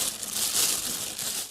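Close, soft shuffling and crinkling, like fabric or papers being rubbed and moved about, continuing briefly with no voices.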